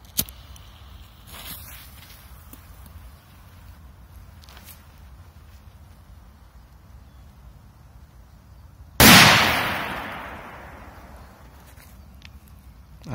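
A single firecracker goes off with a sharp, loud bang and a ringing decay, after a long quiet stretch of faint outdoor background and a few small clicks.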